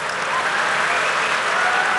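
An audience applauds a speech with loud, dense, steady clapping from many hands that holds unbroken from start to finish, without voices over it.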